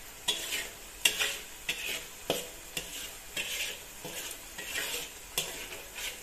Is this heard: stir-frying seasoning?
yes